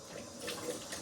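Hot water runs from a bathroom tap to wet a razor and face before a shave, a soft steady splashing stream with slight swells, close by and alone.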